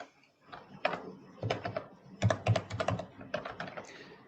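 Typing on a computer keyboard while respondent data are entered into a health-prediction form, quick clusters of soft close key clicks with short pauses between bursts, no voice.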